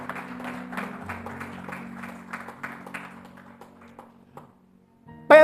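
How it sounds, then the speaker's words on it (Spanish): A church congregation claps along in a loose rhythm over sustained sung or hummed tones, the claps thinning and fading before a sudden loud burst at the very end. "Dale un aplauso a eso, aleluya."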